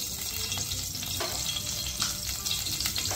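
Mustard seeds sizzle and crackle in hot oil for rava upma, a dense steady frying hiss with scattered pops, close and even throughout with nobody speaking.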